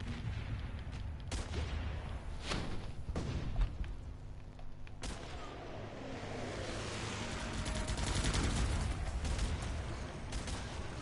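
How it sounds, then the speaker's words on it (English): An M61 Vulcan 20mm aircraft-mounted cannon fires during testing, heard as several sharp bursts and booms over a continuous loud roar of ripping noise, with no talk. "here's some test footage of the ultra-rapid aircraft-mounted machine gun at work"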